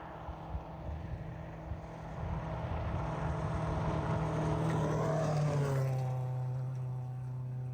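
A rally car in the Uganda Rally Championship approaches and passes at full throttle, its engine note building to a loud roar and then dropping in pitch as it moves away.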